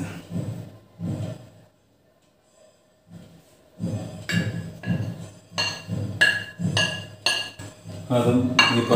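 Rice flour mixture being stirred in a metal bowl while making masala peanuts, with repeated scraping clinks of a spoon against the bowl, a brief pause, then faster, louder stirring strokes near the microphone.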